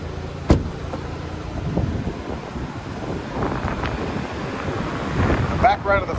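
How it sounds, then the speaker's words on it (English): Strong outdoor wind buffets the microphone in a continuous low, roaring rumble with uneven gusts that swell and fade, loud and close throughout. "the wind is just insane today"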